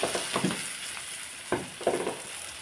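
Mint and curry leaves hit hot oil as tempering for a prawn biryani, a soft steady sizzle broken by a few sharp stirring clinks and scrapes close by, no voices.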